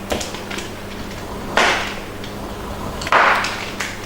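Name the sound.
knife shredding a bar of chocolate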